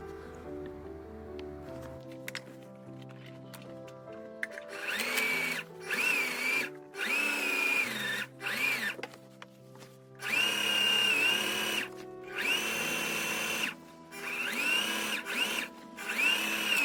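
A sewing machine stitches a Mulan cosplay costume in repeated whirring motor bursts of a few seconds each, separated by brief stops, over steady background music.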